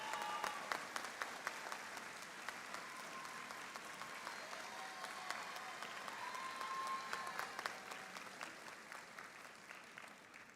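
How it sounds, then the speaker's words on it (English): A high school graduation audience claps steadily for standing graduates, a dense, even wash of applause with a few sharper nearby claps, fairly distant and sustained. "Let's give them a round of applause."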